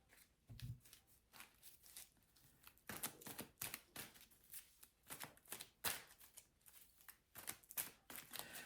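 Playing cards are shuffled in quick bursts of riffling and tapping, close by, with short pauses between rounds and no talking.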